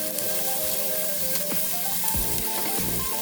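Garlic and onion sautéing in a hot pan, a steady close sizzle and crackle of frying with occasional scraping stirs, no voices.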